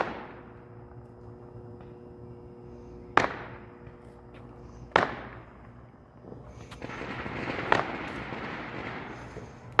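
Small Fourth of July fireworks set off outdoors near Old Fort Selden, New Mexico, a few sharp, loud pops spaced several seconds apart with crackling and distant bangs between them.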